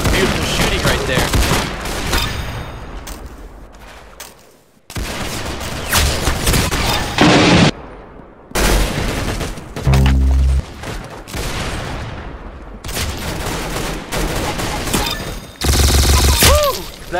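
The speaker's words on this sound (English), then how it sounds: "That's some beautiful shooting right there." Gunfire from the Roblox game Arsenal on a beach map: loud, rapid fusillades and machine-gun bursts come in dense waves with brief gaps and occasional booms, and talk is faintly present.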